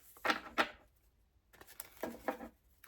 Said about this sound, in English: So yeah, they do shuffle really well.